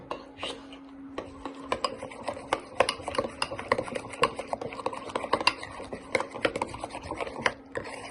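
Homemade Algerian sauce for kebab being mixed in a bowl, a busy run of spoon clinks, scraping and tapping against the dish, with faint talk at moments.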